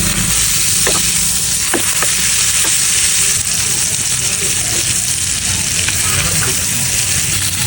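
Butter sizzling in a small frying pan, a steady dense hiss of frying with a few soft pops and clicks, close and fairly loud throughout.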